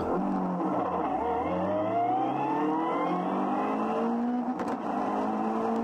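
A Nissan Micra pulls away at the start of a race at Monza, its engine climbing in pitch through the gears in long rising sweeps with a brief change near the end, close and steady.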